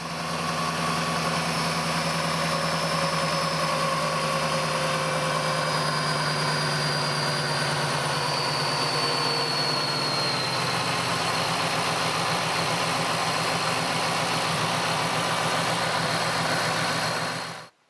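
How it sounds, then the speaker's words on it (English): A Challenger's engine idles steadily and loudly throughout with a constant low rumble and whine, carrying a new Dayco belt tensioner, then cuts off abruptly at the end. "Now we're going to fire up the car and make sure everything's good."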